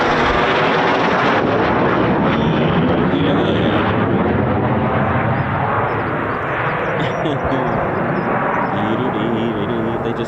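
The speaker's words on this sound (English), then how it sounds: "as if by magic there is another Typhoon" Eurofighter Typhoon FGR4 jet flying at RAF Coningsby, a loud, sustained broadband roar filling the whole stretch, close and steady with a slight shift in tone partway through.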